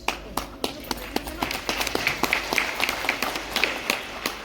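Audience clapping at an RCM zonal celebration event in Guwahati, a steady patter of many hands applauding in a large room, moderately loud with no talk over it.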